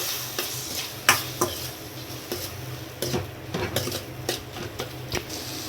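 Chopped medium tomatoes cooking in a pan with stuffed capsicum filling, stirred with a spoon: a steady sizzle under repeated scraping strokes and occasional sharp clinks against the pan, close and fairly loud, with no talking.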